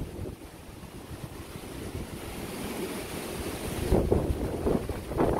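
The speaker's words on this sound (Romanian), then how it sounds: "Bate vântul foarte puternic." Strong wind buffeting the microphone at a fishing lake, a continuous rough rumble that swells louder with gusts toward the end, with no one talking.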